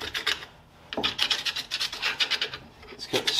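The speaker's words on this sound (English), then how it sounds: "Scrape it all off." Rough rasping scrapes as debris is cleared off the hub parts of a daily-driver Monte Carlo, arriving in quick rhythmic strokes in two bursts separated by a short pause, close and fairly loud with no talk.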